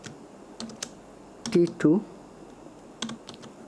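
HTML code is typed on a computer keyboard in short bursts of close, crisp key clicks, separated by pauses, while a voice speaks briefly between them.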